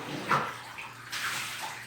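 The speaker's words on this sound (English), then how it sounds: "you just want to rinse them off like this" Water pours and splashes over a cat being rinsed during a bath, a steady wash of running water with a couple of louder gushes, fairly close and without talk.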